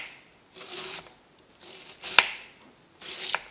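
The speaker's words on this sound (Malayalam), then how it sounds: "ഇത് റെഡിയാക്കാൻ വേണ്ടിയിട്ട് സവോളയും പച്ചമുളകും നല്ല പൊടിയായിട്ട് കട്ട് ചെയ്തിട്ട് എടുക്കാം" A knife finely chopping onion and green chillies on a board for an onion masala appam, heard as three separate bursts of quick rasping cuts, close and moderately loud with quiet gaps between.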